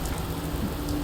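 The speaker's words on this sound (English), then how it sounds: "It's bloody raining out here." Steady rain falls in Fallout 4, an even, continuous hiss of drops filling the short stretch without talk or other sounds.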